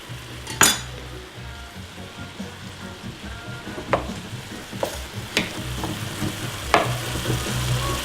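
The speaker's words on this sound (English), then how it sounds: "I'm gonna add the salami, that way we can kind of like stir fry it a little, let it get warm" Salami and zucchini noodles stir-frying in a buttered pan for zoodle carbonara: a steady sizzle with several sharp clinks of a utensil against the pan spaced through, close and without talk.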